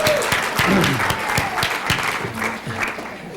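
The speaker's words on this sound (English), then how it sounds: "let's give them a round of applause" An audience claps in sustained applause, a dense patter of many hands that carries on steadily throughout.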